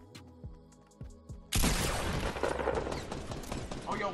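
Gunfire in the Fortnite video game starts with a few faint mechanical clicks, then erupts into a sudden, loud, sustained burst of shots that keeps crackling to the end.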